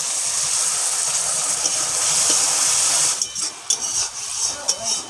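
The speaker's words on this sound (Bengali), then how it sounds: "এবারে সামান্য জল দিয়ে দেবো" Water poured into a hot pan of cumin, chili and turmeric paste, a loud continuous hiss and sizzle that breaks into uneven sputtering pops toward the end.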